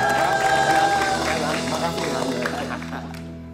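Studio audience at an Indonesian talk show applauds and claps to welcome a guest, a short burst of crowd clapping that fades toward the end over background music.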